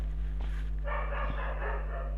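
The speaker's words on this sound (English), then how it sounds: "These dogs keep barking, I'm sorry." A dog barks a few times nearby over a steady low electrical hum, with a brief burst of yapping noise in the middle.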